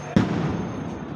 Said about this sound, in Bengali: দেখতে পাচ্ছেন যে বোম ফুটছে।